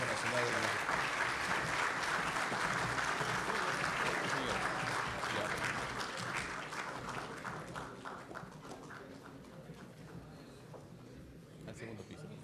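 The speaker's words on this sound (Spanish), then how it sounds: "Despedimos con un fuerte aplauso" Sustained applause from an audience at a formal anniversary ceremony of Peru's National Council of the Magistracy, loud and dense at first, then gradually thinning and fading over about twelve seconds.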